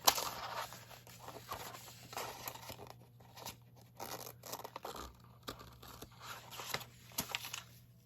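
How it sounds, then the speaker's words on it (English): Quiet, close snipping and crinkling as scissors cut around an adhesive sheet, in short irregular bursts with small pauses. "you can just cut right around the adhesive sheet for what you need"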